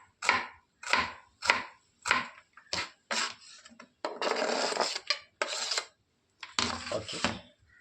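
Raw onion, tomato and green chili are chopped with a knife on a board: about six sharp, evenly spaced chops, then longer bursts of rapid cutting and scraping, close and clear.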